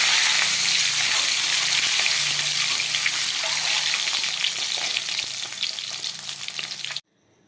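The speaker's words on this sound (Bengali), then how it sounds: "ভেজে নেব হালকা করে।" Eggs coated in salt and turmeric fry in hot oil, sizzling loudly and steadily at close range for several seconds before cutting off abruptly.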